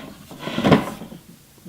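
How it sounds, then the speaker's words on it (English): A full-size wooden drawer in a tiny cabin slides with a single soft rumbling thump, close and brief, in a quiet room. "see here how big those drawers are"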